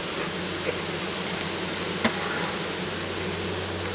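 Honey bees crawl over a hive's brood frame, giving off a dense, steady, close-up buzzing drone with no voices and barely any change in level.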